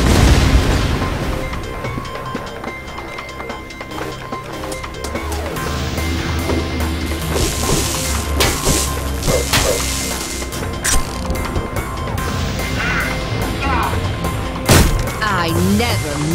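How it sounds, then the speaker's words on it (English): Grenade launcher blasts in the shooter game Ion Fury, a dense run of heavy booms and crashing impacts layered over busy game noise and music, with a sharp loud burst near the end. "Grenade launcher in my bag."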